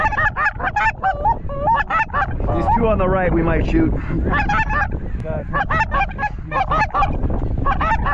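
A flock of geese honks repeatedly during a Kansas goose hunt, loud calls arriving in overlapping bursts, while someone talks quietly beneath them.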